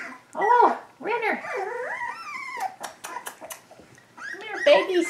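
Three-week-old puppies whimper and yip close by in a series of rising, wavering whines with short pauses and sharp squeaks between them.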